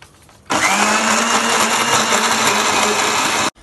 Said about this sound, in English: Now we are gonna make the paste of the curd, coriander leaves, green chilies,